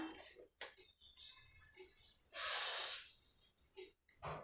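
A slow, deep breath drawn during a guided chakra meditation, a soft airy rush swelling to a broad hiss mid-clip, with fainter breathy sounds around it in a quiet room.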